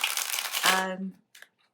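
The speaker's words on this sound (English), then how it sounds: "While I'm shuffling" Close, fast riffling of playing cards being shuffled, with a voice speaking over it before a brief pause and a few softer card sounds.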